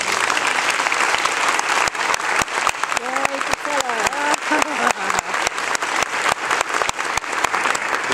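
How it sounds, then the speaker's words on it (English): Applause from an audience at a ministry school graduation, a dense steady wash of clapping throughout, with a voice briefly heard over it midway. "you all deserve a round of applause as well"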